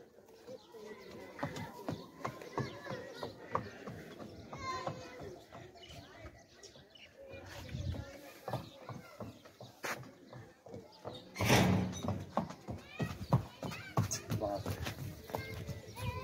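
Young pure-bred racing horse trotting at a horse sale in Pakistan, irregular hoof clops scattered through the scene under frequent talking, with a louder burst of movement partway through.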